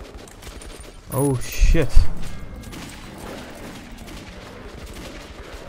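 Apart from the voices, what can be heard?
gunfire in a gun battle, video game Metro 2033 Redux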